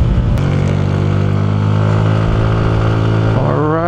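Yamaha NMAX 155 scooter engine under way, a steady close drone with a rising rev near the end.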